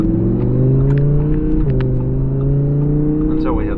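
An Audi R8 V10 Plus engine pulls hard under acceleration from inside the car, its rising harmonic whine climbing steadily, dipping briefly at a shift, then climbing again, loud and continuous.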